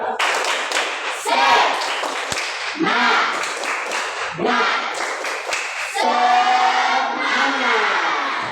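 A class claps together in a quick steady rhythm, loud and close, with bursts of cheering voices joining near the end.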